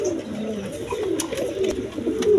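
A pair of Racer pigeons coo softly close by, low murmuring calls repeating over a quiet background.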